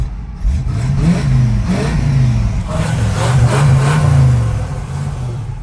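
A 1969 Pontiac Firebird Convertible engine, started cold, runs and revs up close and loud, with a steady low rumble that swells and eases.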